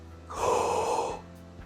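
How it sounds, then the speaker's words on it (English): A person demonstrates a low, Darth Vader style breath during a vocal technique lesson: one long, hoarse inhalation, close and fairly loud, rising and fading over about a second. "now that is a lower breath"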